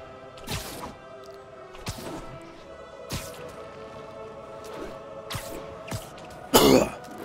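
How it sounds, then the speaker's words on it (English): A character coughing in the Spider-Man video game, a series of separate dry, throaty coughs spaced about a second apart, ending with a louder, harsher burst, heard alone without talk. "Yeah, I have this nasty cough."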